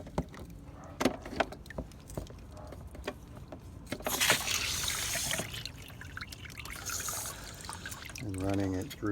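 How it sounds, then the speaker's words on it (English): A garden hose runs water through aquarium cascade filter pieces, a steady splashing trickle that swells midway, heard over faint background clatter. "clean out these pieces, which just consists of hooking your hose up"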